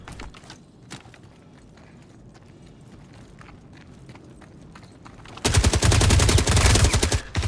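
Rapid machine gun fire in the Star Citizen video game, a loud sustained burst near the end after several seconds of quieter scattered shots and ambient game noise.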